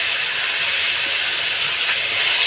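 Ginger garlic paste hitting a hot pan of chicken, an intense, steady hissing sizzle, loud and close throughout with no talk.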